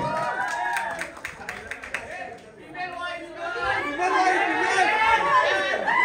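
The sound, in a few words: audience applause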